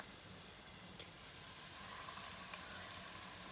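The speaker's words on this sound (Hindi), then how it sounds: "अब हम लोग चिकन जो है इसको यूँ डालते जाएंगे" Chicken pieces fry in hot oil in a pan over medium heat, making a steady, dense sizzle that holds at an even level with a few faint pops, close and uninterrupted.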